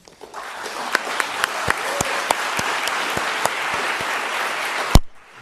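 An audience at a panel session applauds to welcome two speakers, a dense, sustained wash of many hands clapping with a few sharper claps standing out, stopping abruptly near the end.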